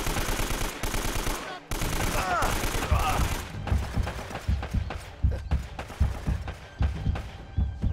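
Rapid automatic gunfire bursts in the video game Uncharted: Drake's Fortune, dense fusillades at first then scattered shots and thuds, with a voice talking over parts.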